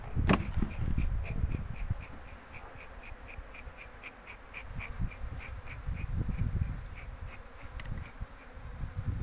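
Honeybees drone around an open hive in a continuous close buzz, with individual bees passing near and fading, under quiet outdoor background.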